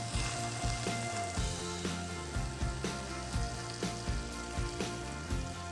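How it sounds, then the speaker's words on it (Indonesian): Heated oil is poured into a kecombrang (torch ginger) sambal, giving a steady, loud close sizzle and crackle of frying with no voices. "Kemudian kita tambahkan minyak yang sudah kita panaskan."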